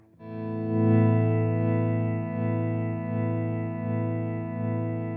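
Sustained ambient guitar pad from a Headrush MX5 with a clean amp and dynamic delay, swelling in from silence as a chord is rolled in with the volume knob, then holding with gentle pulsing repeats.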